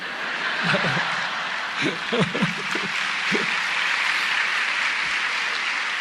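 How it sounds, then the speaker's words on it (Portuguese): Theater audience in Brazil's Sala Villa-Lobos, Teatro Nacional, giving steady broad applause at a lecture-performance, with a few scattered voices and laughs over the clapping. "vocês aplaudindo essas coisas aí"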